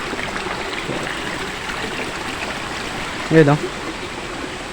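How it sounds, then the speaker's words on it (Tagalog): A river flows steadily nearby in a constant wash of rushing water, with a voice briefly speaking over it. "Yan guys, nasa ilog tayo ngayon"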